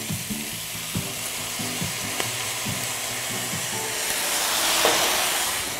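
Pork belly sizzles and crackles in a hot pan as dark soy sauce goes in, the frying swelling into a louder hiss of steam, with scraping stirs tapping through at intervals.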